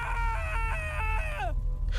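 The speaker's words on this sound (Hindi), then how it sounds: "बहुत डरावनी चीख" A drawn-out, terrifying scream effect in a Hindi Sherlock Holmes detective audio story: a loud, wavering, harmonic cry in stepped pitches that slides downward and breaks off, over a steady low rumble.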